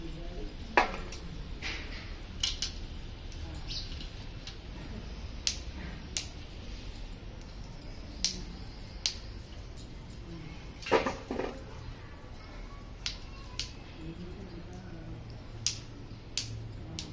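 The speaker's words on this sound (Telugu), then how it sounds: "ఈ వేర్లన్నీ కూడా కట్ చేసేయాలి." A knife trims the roots off raw turmeric rhizomes, giving sparse, faint clicks and light taps at irregular moments over a low, steady background hum.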